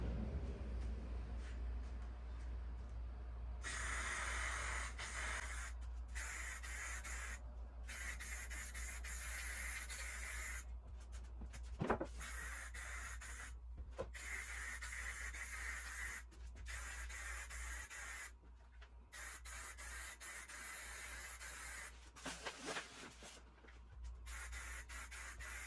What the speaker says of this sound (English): Keep your spray about 9 to 12 inches away from the surface and focus on smooth, even strokes.